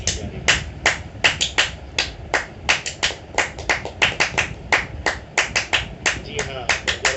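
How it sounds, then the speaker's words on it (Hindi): Scientists at mission control clap during the Chandrayaan-3 lunar landing, a run of sharp, separate handclaps in an uneven rhythm over a low room murmur. "आप इस तालियों की गड़गड़ाहट को सुन सकते हैं"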